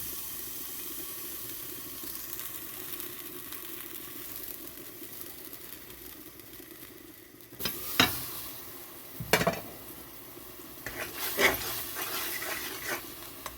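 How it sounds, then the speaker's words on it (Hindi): Water poured into a hot pan of browned onions while making black chickpea curry, a low steady simmer giving way to sharp bursts of sizzling and hissing as the water hits, then more spitting crackle near the end. "तो अभी हम इसमें जस्ट वाटर ऐड करेंगे और इसको कवर कर लेंगे।"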